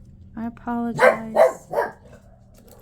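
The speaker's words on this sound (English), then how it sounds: "I'm sorry about the barking dog." A pet dog barks indoors, three or four close, sharp barks in quick succession after a woman's brief spoken apology.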